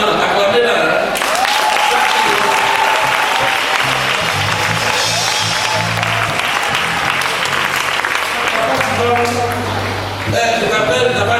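Sustained, loud applause from a congregation at a Sunday church service, dense and continuous clapping filling the room, with voices and crowd noise mixed in throughout.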